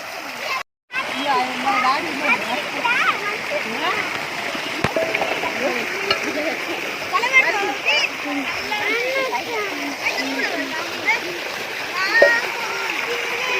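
Water flows and splashes continuously nearby while children chatter over it.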